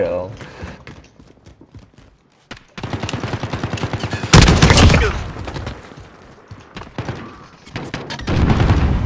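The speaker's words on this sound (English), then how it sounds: "this fucking pistol does not fire that fast" Pistol fire in Call of Duty: Modern Warfare, loud bursts of repeated shots with a heavy blast in the middle, broken up by a player talking and swearing between volleys.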